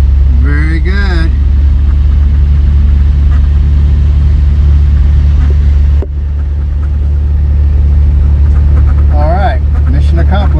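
A 1969 MGC GT moving off in fourth gear gives a steady low engine rumble that stays loud and constant throughout, with brief high squeaks near the start and end and a short dip partway through.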